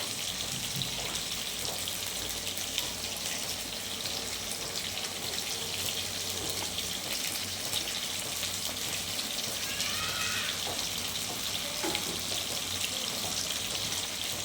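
Fish sizzling as it is slid into hot oil in a home kitchen pan, a steady broadband fry hiss that holds throughout at close range, with no talk.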